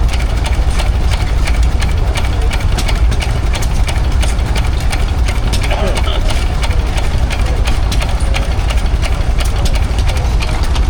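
A Lister JH stationary engine runs at a steam rally, a steady, close, loud idling chug with a knocking rhythm, while people talk over it.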